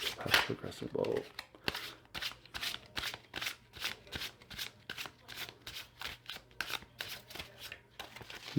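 Tarot cards being overhand shuffled in a steady, rhythmic run of papery riffling slaps, fairly close, with a voice speaking near the start.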